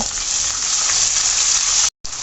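Ginger, garlic and spices frying in hot oil for beef bhuna, giving a loud, steady sizzle that cuts out briefly near the end, with no talking.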